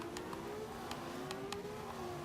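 In Forza 5, an F1 race car engine holds a steady, slightly rising drone at low volume for about two seconds, dotted with brief clicks over a constant rushing noise.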